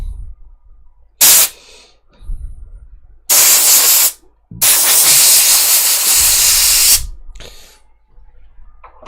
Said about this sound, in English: I'm just going to blow the wax out of the holes